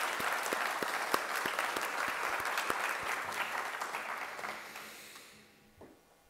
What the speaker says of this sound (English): I kind of want to clap